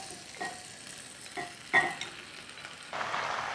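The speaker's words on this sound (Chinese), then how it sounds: "下入洋葱芹菜，搅拌均匀后加入腌好的鸡块" Chicken pieces, onion and celery stir-fried in a wok with dried chili and hotpot base, soft sizzle under several distinct spatula scrapes and clacks, then a louder burst of frying as the marinated chicken goes in, close and without talk.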